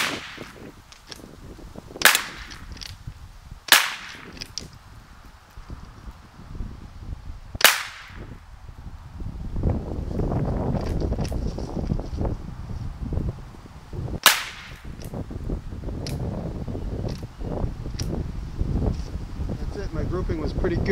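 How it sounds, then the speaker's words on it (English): A handgun fired at bulletproof glass outdoors, four sharp loud cracks spaced several seconds apart over wind noise and rumble, with people talking between shots. "let me fire off a couple of rounds from this"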